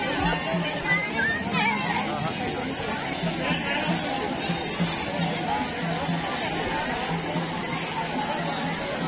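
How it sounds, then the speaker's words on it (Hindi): A dense crowd of devotees chatters continuously at the Mahakal temple of Kundeshwar Dham in Tikamgarh, an even, close hubbub of many overlapping voices with no pauses. "बहुत ज्यादा भीड़ है।"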